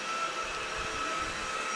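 An Uwant X100 cordless wet-dry vacuum cleaner runs steadily up close with a constant whirring motor hiss as its rollers glide across the floor, and no voices are heard.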